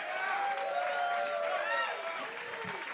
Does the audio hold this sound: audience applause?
yes